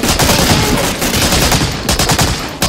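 Loud, close gunfire from the Medal of Honor: Allied Assault Spearhead video game, with rapid overlapping automatic bursts and single shots rattling almost nonstop, with no talking.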